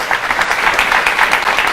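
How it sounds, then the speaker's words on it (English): An audience at a Hare Krishna Sunday feast lecture gives a brief burst of loud, dense clapping. "Hare Krishna, big round of applause"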